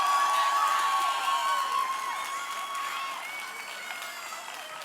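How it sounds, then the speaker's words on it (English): A school pitch-night audience claps and cheers for two program leaders, a broad wash of applause with whoops that fades gradually over a few seconds. "give a huge round of applause to Megan Timlin"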